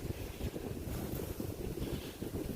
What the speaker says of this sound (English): sorry about the wind. It's so windy.